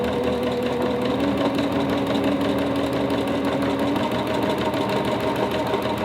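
A sewing machine runs steadily during free-motion quilting, a fast continuous mechanical whirring chatter at an even pace, close and unbroken throughout, with no speech.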